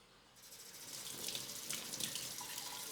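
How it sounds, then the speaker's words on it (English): Water runs from a tap over a cymbal being rinsed, a steady close hiss and splash that starts abruptly and continues alone. "what I do is I clean it off with water"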